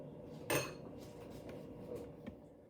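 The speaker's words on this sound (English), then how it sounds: "Put it on a clean plate." A clean plate and utensils are handled while chicken is breaded for low-carb sesame chicken: one sharp clink of dishware, then quieter scrapes and a light tap, all faint and close.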